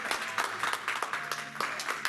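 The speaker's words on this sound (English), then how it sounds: "please give Pastor a big clap offering if she can" At a church women's gathering, the congregation claps for the pastor in a dense, rhythmic burst of applause at moderate volume, with faint voices mixed beneath it.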